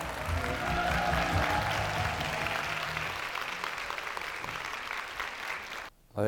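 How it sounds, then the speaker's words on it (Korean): Audience at a book concert on cultural heritage gives a warm round of applause welcoming a professor, dense clapping that gradually thins and fades before cutting off near the end. "큰 박수로 부탁드립니다"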